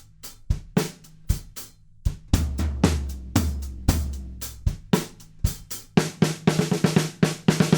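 Drum fill closing the chorus of a song, a sequence of loud, close hits with booming low toms building into a fast flurry of strikes and crashes at the end, played alone without talk.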